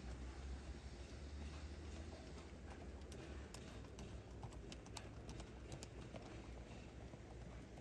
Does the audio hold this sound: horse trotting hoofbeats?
yes